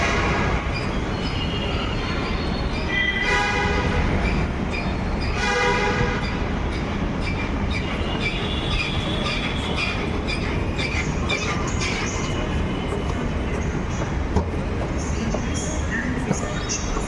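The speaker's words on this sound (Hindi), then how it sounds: "तो भाई ये मेट्रो ट्रेन पहुंच जाइए" A metro train pulls into a station with a steady rolling rumble, a few squealing brake and wheel tones rising over the noise, the sound staying loud and close throughout.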